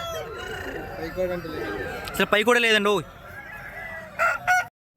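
A fighting rooster crows loudly and close by at the Nallapadu cock market, one strained drawn-out call rising from the busy murmur, while someone talks nearby and other fowl cluck faintly.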